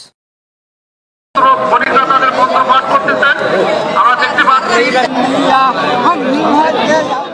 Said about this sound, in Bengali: চারিদিকে উপচে পড়া দর্শকের ভিড়